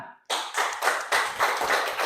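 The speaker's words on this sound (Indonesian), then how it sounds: "Tepuk tangan." A classroom of students gives a round of hand clapping after a group presentation, starting abruptly after a brief quiet moment, then close, dense and continuous with slight pulsing rhythm.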